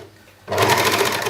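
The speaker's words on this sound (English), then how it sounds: "I'm going to just overlock that edge off" An overlocker sewing machine finishes the raw edge of a little blue dress, starting abruptly after a quiet moment and running as a loud, steady, rapid mechanical whirr close by.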